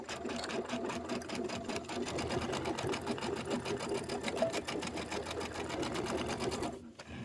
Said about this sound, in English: You always want to back stitch that. And it's nice to do that on the serger